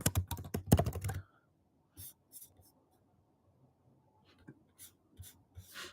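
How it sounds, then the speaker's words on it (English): Quick bursts of typing on a computer keyboard fill the first second, then only a few scattered, softer keystrokes follow amid near silence. "I'll type here."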